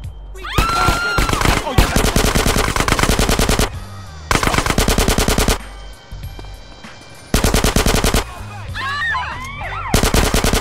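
Rapid automatic gunfire bursts from a firefight in GTA San Andreas, loud and sustained in several long volleys separated by short gaps, with game voices briefly heard between shots.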